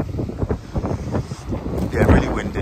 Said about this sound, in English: really windy again, sorry about that